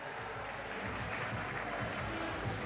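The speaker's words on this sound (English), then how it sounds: "One more round of applause, ladies and gentlemen, for our main event winner, David, the Smiling Assassin, Martinez" Dense crowd applause and cheering fill a combat sports event venue for the main event winner, a steady wash of clapping at a moderate distance.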